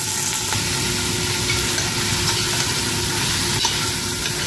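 Chicken thigh pieces frying in a pan for pan-roasted chicken shammi kebab, a dense, steady sizzle with soft scraping from stirring, fairly loud and close, with no voices.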